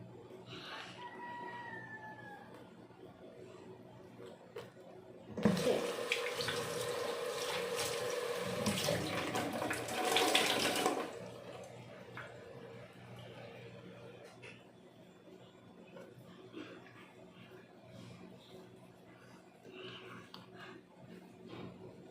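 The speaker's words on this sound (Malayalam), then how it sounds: "അപ്പോൾ ഒന്നുകൂടി കഴുകിയിട്ട് ചെയ്യാം" Tap water gushing loudly into a sink for about five seconds while a face is rinsed, with a rooster crowing faintly in the background beforehand and quiet household sounds after.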